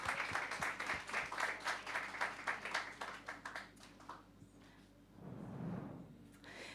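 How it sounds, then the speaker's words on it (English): An audience at a scientists' communication event applauds after a presentation, with dense steady clapping that fades out and gives way to a faint murmur near the end. "Let's give them a round of applause."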